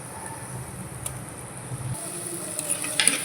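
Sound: sautéing ginger garlic paste with onions in pan

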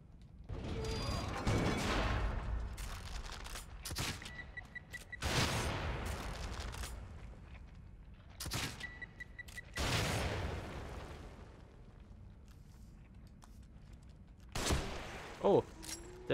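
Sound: shooting a weapon in the video game The Evil Within

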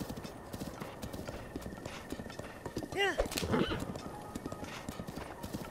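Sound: horse hooves clip-clopping, video game Zelda: Breath of the Wild

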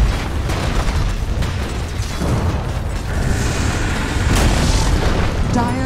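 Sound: Dota 2 tower destroyed, from a video game

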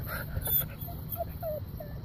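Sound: dog whimpering

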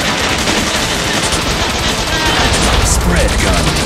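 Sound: machine gun firing in the video game Bot Vice

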